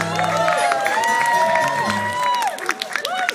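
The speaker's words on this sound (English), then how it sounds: "Round of applause for this place because it's amazing." A small audience claps and cheers at an indie pop concert in an intimate venue, scattered applause mixed with whistles and overlapping chatter and voices.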